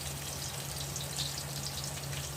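Garlic frying in hot oil in a pan gives a steady, close sizzle with a broad hiss, continuous for a few seconds and without talk.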